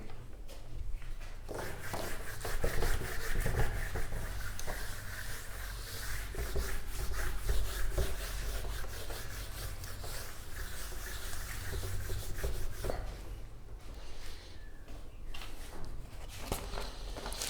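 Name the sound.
rubbing out writing on a board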